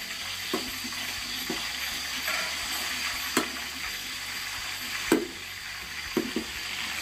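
White giant gourami fish frying in a pan, with a steady background sizzle broken by several sharp scraping knocks as the fish is pushed around to keep it from sticking. No voices are heard.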